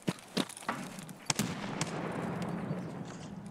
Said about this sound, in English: That nade almost killed him.